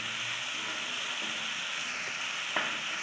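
Soybean curry sizzles steadily in a pan after water is added, a constant soft hiss with a faint clink near the end.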